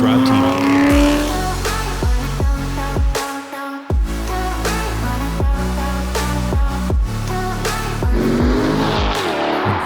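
A C7 Corvette on Michelin AS4 tires roars loudly on a track, its engine climbing through revs with sharp gear shifts and brief lifts, plus hints of tire squeal, close and continuous.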